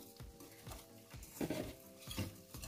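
A utensil stirs a mixture in a pot, scraping and clinking in rhythmic strokes, close by and fairly quiet.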